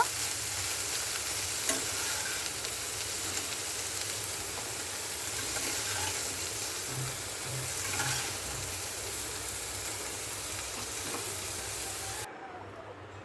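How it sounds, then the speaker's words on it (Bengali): Prawns fry with a steady, close sizzle in a wok while being stirred, a continuous hiss broken by occasional scraping of the spatula, ending abruptly. "চিংড়িগুলো ভাজা হয়ে গেছে, আমি এবার তুলে নেব"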